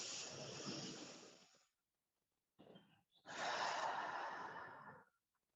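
Deep, audible breaths during a seated chair exercise: a long exhale, a pause of silence, a short breath, then another long, full exhale, close and clear with no talking.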